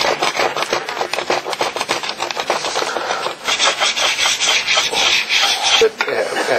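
A steel hand scraper works over a weld on the metal base of a portable welder in rapid, rhythmic rasping strokes, loud and close, with steady scraping over a longer stretch near the end.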